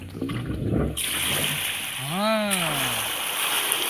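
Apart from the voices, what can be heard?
water flowing into irrigation channel from pump motor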